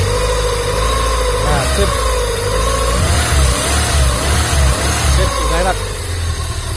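A Honda Civic Genio engine fires up on the starter, then revs and settles into an uneven idle, loud and close, with someone speaking briefly over the running motor.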